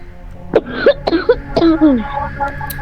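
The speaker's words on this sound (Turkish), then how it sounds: "öksürüyorsun ki kulağıma kadar geldi" Three sharp coughs in quick succession from a man during an online game, loud and close, with a throat-clearing rasp trailing after.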